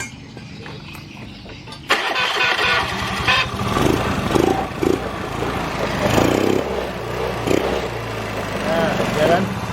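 A Honda Vario 110 scooter engine cranks and catches after a brief quiet start, then runs with a rough, fluctuating idle and small blips of throttle, while someone talks over it.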